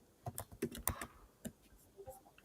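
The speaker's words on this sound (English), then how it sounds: "Sorry for typing." Typing on a computer keyboard during an online finance discussion: a quick irregular run of sharp key clicks, fairly close and quiet, with no speech over them.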